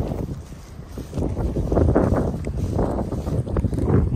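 Gusty wind buffeting the microphone in an open field at sunset as clouds roll in, a loud continuous low rumble that swells and dips without letup.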